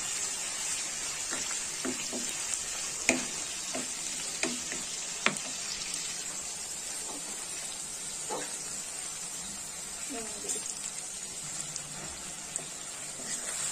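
A spice masala sizzles and fries in a pan on a stove, a steady close hiss that keeps going with a few light clicks and stirring sounds, and no talk.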